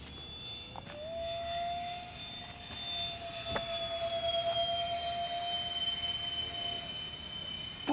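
A jet aircraft making a flyby, a sustained whining engine tone that shifts pitch as it passes, heard at moderate distance over steady background rumble.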